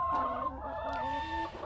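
Layer hens in a homemade deep litter coop cluck and murmur close by, with several overlapping drawn-out calls and short clucks forming a busy, tonal chorus across the short moment.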